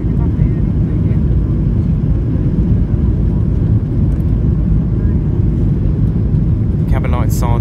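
Inside the cabin of a Ryanair Boeing 737-8AS on short final, a loud, steady low engine and airflow rumble fills the space, with a few faint high chimes or tones near the end.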